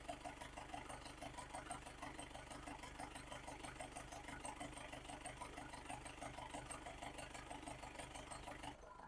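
The 1999 Mahindra MDI jeep engine idles with an even, rapid diesel clatter that holds a steady rhythm, fairly quiet and close, then cuts off abruptly at the end.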